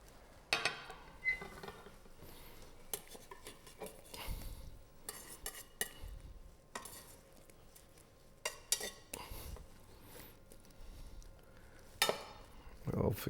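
A metal utensil scrapes and clinks against a pan to loosen stuck food while cooking over a wood-fired brick oven, giving irregular scratchy strokes and knocks over a faint sizzle, with some talking in between.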